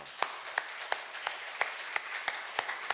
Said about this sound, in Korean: 하나님께 결단의 박수 올려드립니다.